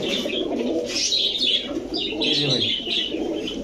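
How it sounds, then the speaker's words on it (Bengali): Red khaki pigeons in a loft of teddy, racer and high-flyer pigeons coo continuously at close range, with soft chirps and a brief flutter of wings mixed into the steady murmur. "লাল খাকি কবুতর"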